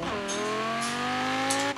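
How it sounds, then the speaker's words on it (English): Engine notes of a V10 car and a Koenigsegg Regera in the Forza Horizon 3 racing game, a steady high-revving tone with rising harmonics, loud and continuous, no talk. "that V10 sounds very nice. So does that Regera engine."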